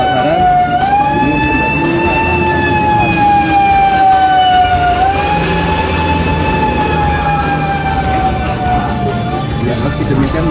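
Fire engine siren wailing loud and close at a blaze in a flea market, its rising and falling tone sweeping steadily over a busy rumbling background of engines and crowd noise.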